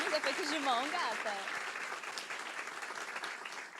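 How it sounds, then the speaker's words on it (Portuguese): An audience at a school violence-prevention forum claps in a dense, steady burst of applause that slowly fades, with a voice speaking over the start. "obrigado pelos aplausos"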